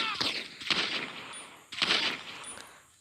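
Gunfire in the GTA San Andreas video game, with four sharp shots or short bursts, fairly loud and close, each followed by a brief fading echo.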